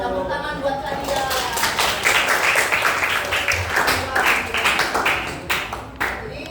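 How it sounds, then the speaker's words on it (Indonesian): Classroom of students applauding together, a steady dense patter of clapping hands that runs throughout, fairly close, with some voices mixed in beneath the claps. "Tepuk tangan buat kalian."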